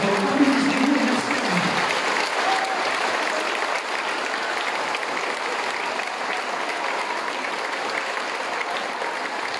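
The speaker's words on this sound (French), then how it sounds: "Donc, applaudissez-vous et merci." Sustained applause from parents in an audience at an evening school stage show, dense steady clapping filling the room, with a brief murmur of voices near the start.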